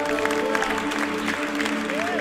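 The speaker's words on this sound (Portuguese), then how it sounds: "dê uma linda salva de palmas para Ele" Church congregation clapping during an evangelical sermon, a continuous round of applause mixed with crowd murmur and a sustained musical tone underneath.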